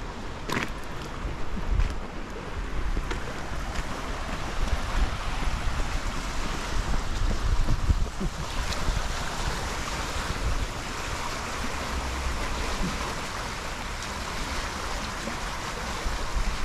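A fast-flowing river in Winchester, swollen after heavy rain, rushes in a loud, continuous roar with a steady wash of turbulent water and some wind buffeting, heard up close with no talking.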